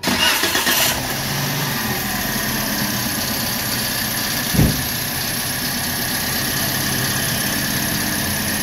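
A six-year-old Toyota Vios under repair cranks briefly and starts, then settles into a steady close idle with a faint single knock midway.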